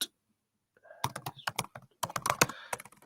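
Rapid clicking keystrokes on a computer keyboard arrive close and crisp in quick irregular bursts with brief pauses between runs, with no talk.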